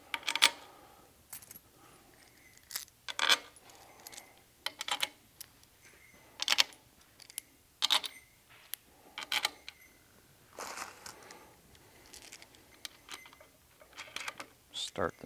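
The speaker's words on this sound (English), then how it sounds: "let's put all of our 7/16 bolts in" Metal 7/16 bolts clink sharply as they go into the final drive of a Tilmor 520 tractor during assembly, with a series of crisp, close, irregular taps and rattles separated by short quiet gaps.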